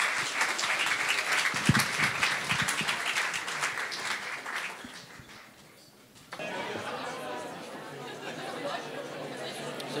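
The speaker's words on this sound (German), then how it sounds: "Und Applaus." Audience applause mixed with crowd chatter at a live show in a university bar, a dense wash of clapping and voices that dips near the middle before the room noise returns at a lower, steadier level.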